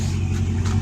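Small mini bike engine running steadily at close range, a continuous mid-pitched motor drone with a slight rise in revs, no voices over it.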